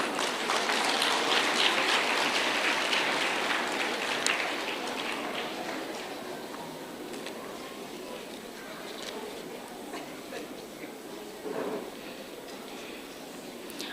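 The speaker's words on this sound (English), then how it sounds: "Another round of applause." Sustained audience applause at an award ceremony, a thick, rain-like wash of many hands clapping that stays steady and gradually softens over fourteen seconds, with faint voices mixed in.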